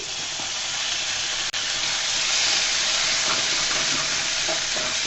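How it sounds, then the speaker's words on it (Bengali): Ginger garlic paste fries in a pan with a steady, close, loud sizzle that runs unbroken throughout, interrupted only by one brief dropout. "দিয়ে আদা রসুন বাটাটাকেও আমি সুন্দর করে ভেজে নিব যেন কাঁচা গন্ধটা চলে যায়।"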